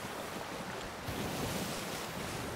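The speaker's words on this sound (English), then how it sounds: "The waves are going the same direction as the wind for once." Ocean waves and wind from a pirate video game blend into a constant rushing wash of surf and gusting air, steady and fairly loud with no speech over it.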